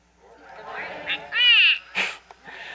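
A My Special Aflac Duck robotic toy gives a few short, nasal electronic quacks, with the loudest burst in the middle and a sharp chirp after it, close and clear over a quiet room.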